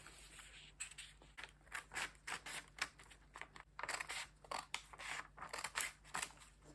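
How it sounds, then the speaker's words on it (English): Scissors snip repeatedly through paper while cutting a princess dart dress pattern, a close, quiet run of crisp cuts in quick irregular bursts with no talking. "So I'm going to cut this side as well."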